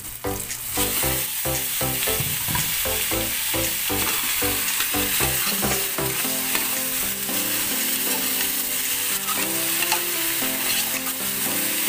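Fatty beef sizzles and fries in a pan with star anise while being stirred. A steady, close crackle runs throughout, broken by repeated scraping and stirring strokes, with no one talking.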